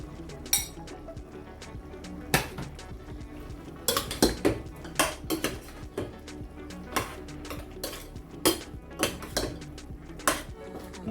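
Okra tipped into a pot for an okra and spinach dish and stirred, with clinks and scrapes of utensil against the pot in irregular bursts and faint background hum.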